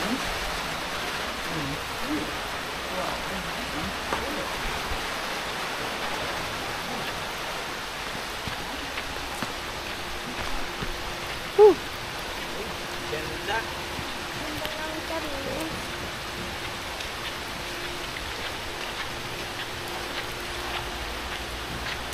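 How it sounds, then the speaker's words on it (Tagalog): Steady rain falls outdoors by a swimming area, a soft continuous hiss of drops with faint voices and a brief knock partway through. "Mababasa tayo, guys. Yes, umuulan na po."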